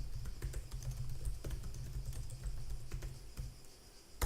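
Fingers tap out a plugin name on a computer keyboard in quick, uneven bursts of crisp clicks, close and fairly quiet, with a heavier keystroke at the end.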